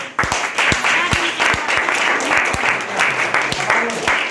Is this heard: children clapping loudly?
yes